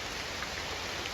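Steady rain falls in a wooded park, a dense even hiss of drops on leaves and ground with no voices, close and continuous throughout.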